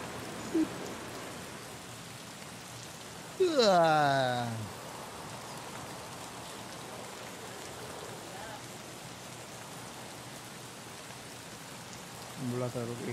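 Rain in the video game Escape from Tarkov, a steady hiss of falling rain throughout, with a brief rising tonal sweep early on and short bits of voice near the start and end.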